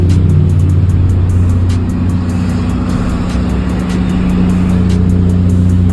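An Owner Type Jeep engine idles steadily with its muffler fitted, a loud, close, continuous low rumble with a slight dip in level midway and no voices.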